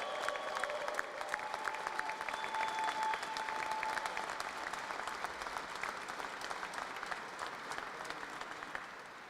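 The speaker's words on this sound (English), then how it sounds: "Round of applause." Crowd applauding veterans at a Second Amendment rally, dense steady clapping from many hands that carries on throughout and gradually thins toward the end.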